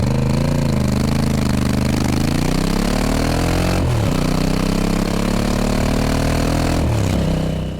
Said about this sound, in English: The exhaust note is so lovely and it's one of the most outstanding features of this bike.